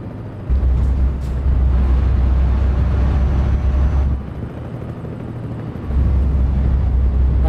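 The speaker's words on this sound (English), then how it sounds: "I can hear a helicopter." Helicopter flying in Euro Truck Simulator 2, a loud low rotor drone thrumming steadily, briefly easing off in the middle before returning at full strength, with no voices.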